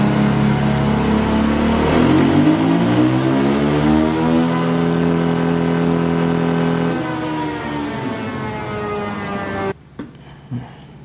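A KTM/Husqvarna 501 four-stroke single running on a Vortex ECU revs up with rising, loud harmonic engine tone, holds, then drops back down before the sound cuts off near the end, leaving brief faint knocks.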